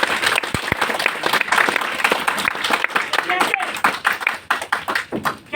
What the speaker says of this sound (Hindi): फिर से जबरदस्त ताली बजाइए